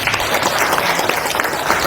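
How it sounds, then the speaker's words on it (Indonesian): Applause from an audience at a political party gathering, dense and continuous clapping that holds at a steady level throughout, with no voices on top. "Tepuk tangan untuk beliau."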